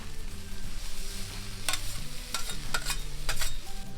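Caramelized onions frying and being stirred in a pan, a steady close sizzle with several sharp scraping stirs of a utensil against the pan, no voices.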